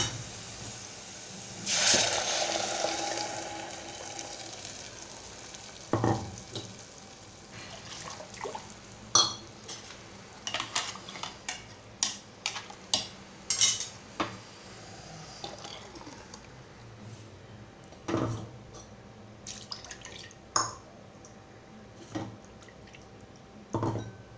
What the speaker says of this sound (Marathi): आता आपण जे मसाल्याचं वाटण केलंय ते घालूया